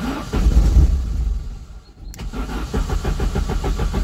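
A car engine, started with hot-wired leads, cranks with a rough churning, falls briefly quiet, then catches and settles into a steady, pulsing idle close by.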